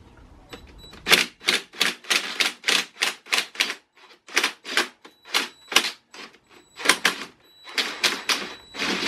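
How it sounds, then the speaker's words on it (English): A ratchet fitted with an E10 socket loosens the valve cover bolts on a BMW N52 engine, giving close, loud bursts of rapid clicking with short pauses between turns. "it's time to start removing all of the bolts"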